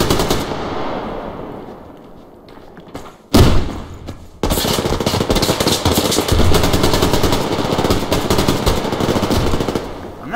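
Bursts of automatic fire from an AKM rifle in the online shooter Survarium, a quieter burst fading early, then a sharp shot and a long sustained loud rattle of rapid shots carrying on to the end.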